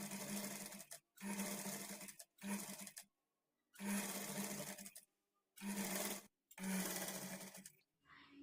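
Sewing machine stitching piping onto a blouse neckline, running in six loud bursts of steady whirring separated by short pauses, with a faint rustle at the end.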